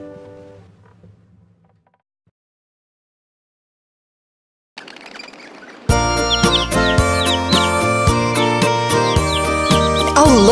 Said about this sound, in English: Look at those two Dickie birds.